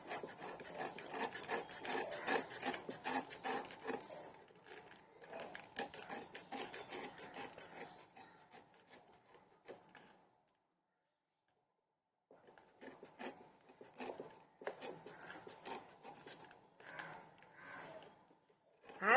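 A knife cuts through raw jackfruit in a rapid, rasping series of close sawing strokes. The strokes run steadily, stop for a couple of seconds of silence, then resume, with no speech over them.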